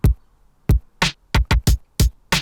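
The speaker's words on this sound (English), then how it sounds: "And then track 2 is my snare." A layered snare drum from a beat production snaps out alone in a quick irregular sequence, each crisp, bright hit landing hard and up close.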